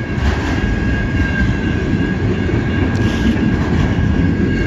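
Steady, loud rumble of a freight train rolling past nearby in cold winter weather in Michigan, with a constant high whine over dense low-frequency wheel noise throughout.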